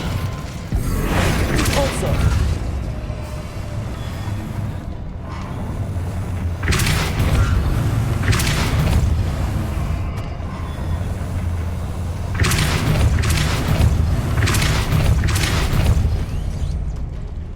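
Spells cast in the Hogwarts Legacy video game: repeated booming blasts, crackling bursts and whooshes in uneven clusters, loud and close, with a voice speaking in between.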